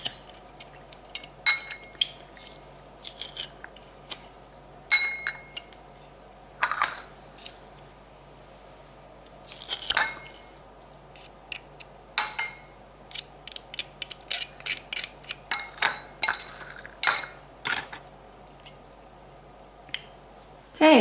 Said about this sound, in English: put this in here and we crush the garlic